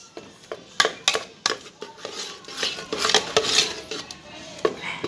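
A spoon scrapes and clinks steadily against a cooking pot as shrimp rice is stirred, making a busy run of close metallic taps and scrapes with no talking.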